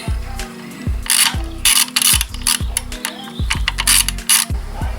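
Ratcheting clicks from turning a nut while seating a spring on a Suzuki RF GSXR during a Factory Pro slick shift kit installation; several bursts of quick mechanical clicking and ratchet sweeps, close and fairly loud, no talking.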